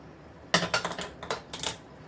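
A metal lid lifted off a cooking pot of simmering jackfruit vegetable gravy: a sudden loud clank followed by a quick series of rattling metallic knocks and scrapes, close up and without talk.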